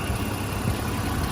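A 1988 Jeep Comanche's 4-liter straight-six engine idles with a steady, even low rumble, loud and close, with no voices.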